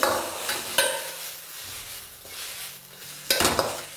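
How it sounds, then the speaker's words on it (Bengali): Vegetables for veg thukpa are stirred in a pan over a high flame, a soft sizzle running under sharp scrapes and clinks of a utensil against the pan. "আমি ভালো করে একবার মিশিয়ে নেব"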